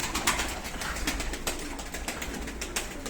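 Pigeons in a loft make a steady, dense bed of cooing and fluttering, with soft repeated clicks and shuffles close by and no talk.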